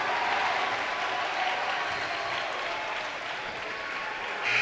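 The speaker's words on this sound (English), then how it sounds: "That's why they started cheering real loud." A crowd at a boys' high school basketball game, Lincoln County at Lexington Catholic, cheers and applauds loudly and steadily, a dense wash of noise that swells again at the end.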